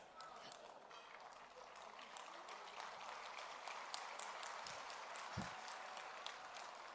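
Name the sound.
audience applause at a speech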